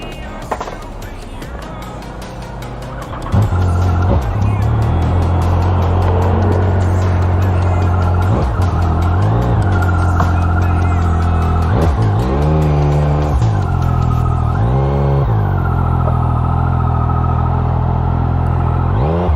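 A Yamaha MT-09 SP motorcycle on Bridgestone Battlax S22 tires pulls away, its engine note rising loud and close after a quieter start, then revving and climbing repeatedly through gears as it accelerates steadily down the road.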